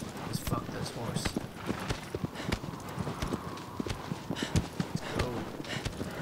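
Horse hooves clip-clopping in the video game Shadow of the Colossus, a quick uneven trotting rhythm close up, with someone talking over it.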